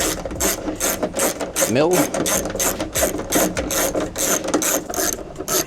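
Ratchet wrench loosening the 10 mm bolts that hold the tail light of a 2014-2017 Infiniti Q50, heard as rapid close clicking pawl bursts in repeated runs, with a brief spoken word in between.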